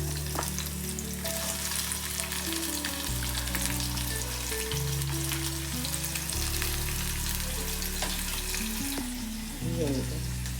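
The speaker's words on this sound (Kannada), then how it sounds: "ಈಗ ಒಂದು ಈರುಳ್ಳಿ ಹಾಕೋತಾ ಇದ್ದೀನಿ. ಹಾಗೆ ಕ್ಯಾಪ್ಸಿಕಮ್ ಹಾಕೋತಾ ಇದ್ದೀನಿ." Onion and capsicum frying in a pan for a paneer roll: continuous close sizzling hiss with sharp crackles and pops, under a loud steady low hum whose pitch shifts in steps, with a clatter near the end.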